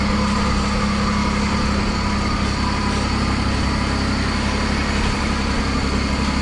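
A John Deere 322 lawn tractor engine idles after repair, a steady, close, continuous rumble that holds an even level throughout with no talking.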